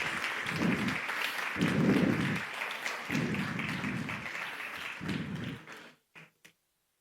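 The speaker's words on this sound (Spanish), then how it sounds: "Un fuerte aplauso nuevamente para Luis" An audience claps after a speaker finishes a talk, a moderate round of applause punctuated by a few low thumps, lasting about six seconds before it stops and leaves near silence.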